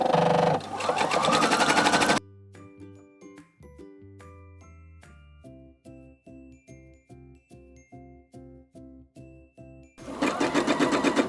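A domestic sewing machine set to a wide zigzag stitch runs a steady, rapid stitching rhythm of evenly spaced mechanical pulses while joining sweater knit into a skirt, with louder whirring bursts at the very start and end.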